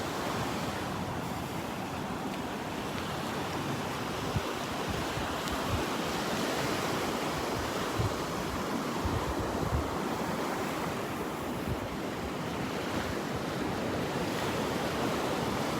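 Small ocean waves break over a sandbar at Delnor-Wiggins beach, a continuous wash of surf with wind noise on the microphone, steady and fairly close throughout.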